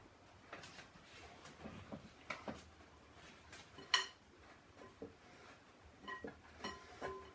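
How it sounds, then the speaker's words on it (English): Utensil scraping and knocking against a mixing bowl while breaking up sugar for banana bread chocolate scones, irregular clinks and taps with one sharp clack midway, close and quiet. "I'm going to break up my sugar."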